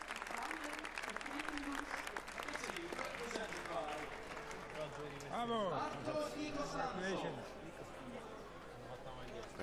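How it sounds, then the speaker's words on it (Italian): Spectators in Lucerne applaud the silver medal crew after a rowing world cup men's four final, a crowd clapping and cheering outdoors under an announcer talking over it. "ricevono gli applausi del pubblico di Lucerna."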